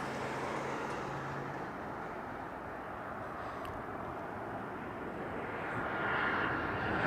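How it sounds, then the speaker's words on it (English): A Spirit Airlines jet on approach into Harry Reid International Airport in Las Vegas, a steady broadband roar held at moderate, fairly distant level throughout, swelling slightly near the end, with no talk over it. "We got Spirit Airlines coming in."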